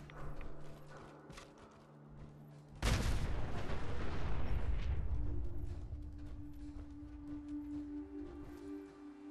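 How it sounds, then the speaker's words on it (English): Gunfire in a modded Fallout 4 session, a sudden loud burst of shots and blasts that fades over several seconds into rumbling, with a quieter ambient game bed before and after. "I hear gunshots."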